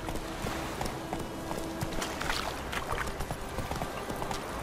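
Horse hooves clip-clop in The Witcher 3, a steady walking beat set against busy ambient game noise throughout.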